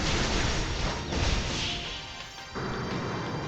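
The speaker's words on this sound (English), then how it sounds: "Can you imagine just hearing all the crashing and all the explosions?" Crashing and explosive impacts in Lumiose City in the video game Pokémon Legends Z-A, a dense, loud rumble of smashing and bursting noise that dips briefly, then returns with a sudden heavy hit.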